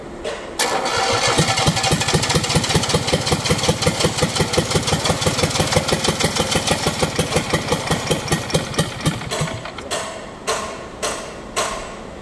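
An Isuzu 3AD1 diesel engine cranks and catches, then runs with a loud, rapid, uneven knocking rhythm that slows into spaced, stuttering beats as it falters near the end.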